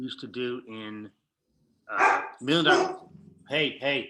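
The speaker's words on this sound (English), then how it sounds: "That's my dog." A dog barks in a few loud, close bursts, with people talking before and around the barks during a casual interview.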